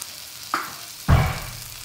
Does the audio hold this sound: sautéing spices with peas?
yes